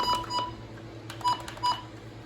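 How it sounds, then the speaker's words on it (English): A few short, high electronic beeps from weather station button presses, spaced irregularly, close by with faint clicking in between. "The same button beeps."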